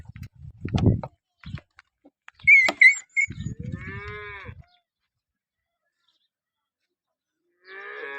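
A cow moos several times, deep and drawn-out, with short rustles and thuds between calls and a quiet pause before a final moo.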